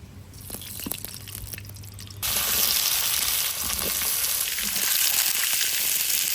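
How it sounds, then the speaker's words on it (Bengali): Vegetables frying in mustard oil: sweet potato, potato, pumpkin and papaya, starting as a quieter sputter with light stirring, then a loud, dense, continuous close sizzle when more go into the pan. "সব কিছু একসঙ্গে ধুয়ে ভেজে নেব। সর্ষের তেল"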